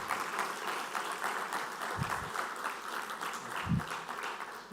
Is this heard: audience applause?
yes